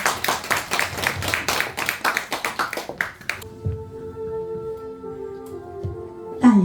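Audience applause welcoming a reader to the stage at a book concert for an essay collection, a burst of many hands clapping for about three seconds that then stops abruptly, giving way to soft piano music.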